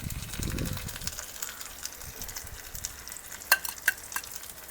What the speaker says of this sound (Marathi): आता आपले मसाले पण काजूत जरशी फ्राय करून झाले